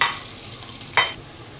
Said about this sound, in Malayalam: ഒനിയൻ ചെറുതായിട്ട് അരിഞ്ഞ് വെച്ചതും, ഒരു പച്ചമുളകും, ഒരു ബേ ലീഫും കൂടെ നമുക്കിതിലേക്ക് ഇട്ട് ഇതൊന്ന് ചെറുതായിട്ട് വാട്ടിയെടുക്കാം